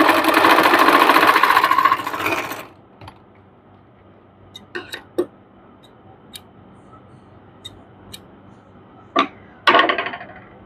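A sewing machine runs steadily for about two and a half seconds while stitching a folded fabric hem on pajama trouser cuffs. A few brief clicks and handling taps follow in near silence, then the machine gives a short burst at the end.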